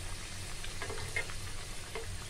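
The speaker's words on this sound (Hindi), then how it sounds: "इसे मैं फ्राई करके निकाल लूंगी, इसे मैं छान लूंगी ऑयल से" Gujiya frying in hot oil, a steady low sizzling bubble with a few brief crackles and light pops, close and continuous, with no talking.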